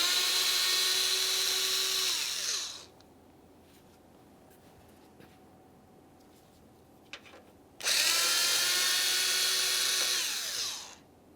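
A power tool spins out the 7mm mounting bolts on a plastic panel of a 2017-2024 GMC Acadia in two loud, high whirring bursts. A quiet gap with faint clicks and handling separates the bursts.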